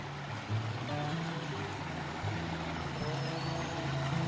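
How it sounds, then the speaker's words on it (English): A small creek on the Ouachita Trail flows beneath a footbridge, a steady, soft, close rushing wash of water that continues evenly for several seconds with no voices. "Nice little stream, creek, whatever it is."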